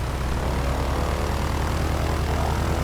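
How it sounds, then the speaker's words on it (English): A PT-17 Stearman biplane's propeller engine drones steadily and loudly in Microsoft Flight Simulator, a continuous rumbling hum with no pauses and no voices. "I'm just gonna start up the engine and let you hear it"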